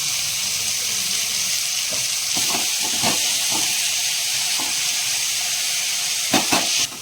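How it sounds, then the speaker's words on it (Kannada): Mutton masala fries with mint and coriander leaves in a steady, hissing sizzle. Scattered stirring scrapes and knocks rise above the sizzle toward the end. "ಈ ಥರ ಎಲ್ಲ ಫ್ರೈ ಆಗಬೇಕು"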